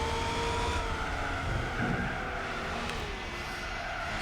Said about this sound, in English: Sound of this 350Z is a bit awkward.